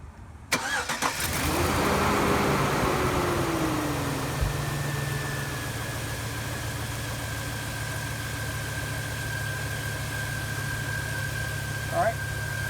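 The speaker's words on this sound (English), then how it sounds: "let's go ahead and fire it up and see if it's idling nice and smooth now." A car engine starts and settles into a steady, smooth idle after an oxygen sensor replacement during a P0174 lean-code repair, running close and continuous with a brief extra noise near the end.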